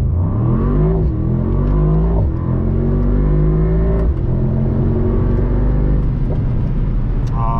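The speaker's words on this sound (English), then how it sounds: "Let's just go ahead and try to do the race mode and the drag race again" A 585 hp Mercedes-AMG SL63 engine in race mode revs hard and accelerates through several gear shifts, pitch climbing then dropping with each change, close and continuous.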